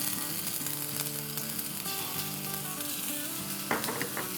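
Garlic sizzles in hot oil in a pan for chicken kung pao noodles, a steady bright crackle that runs without a break, with stirring clatter and louder spitting near the end.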